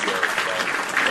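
Applause for a message on a live wrestling talk show, a steady burst of clapping lasting about a second, fairly loud and dense.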